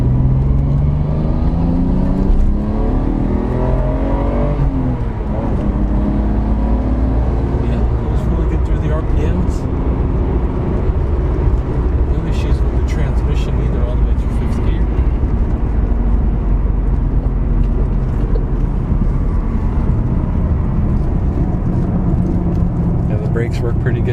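A Nissan Skyline GTR R33 V-Spec pulls hard through the revs from around second gear, a loud, continuous engine roar rising and shifting inside the cabin, with voices talking over it.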